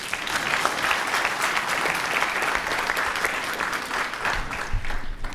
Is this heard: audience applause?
yes